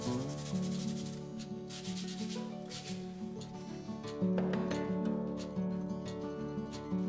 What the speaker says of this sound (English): Let's give it a bit of sanding to add some weathering and aging.